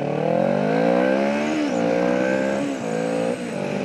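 Car engine droning steadily while driving at about 60 miles per hour, with harmonic tones that dip and shift as the car slows toward an emergency stop. The sound is loud and continuous, with no talking over it.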